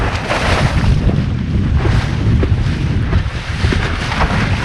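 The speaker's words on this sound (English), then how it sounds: "Okay, we've got some wind coming." Strong wind blows outdoors on open water during a foiling session, a loud, steady roar buffeting the microphone with low rumble and gusty variation throughout, no voices present.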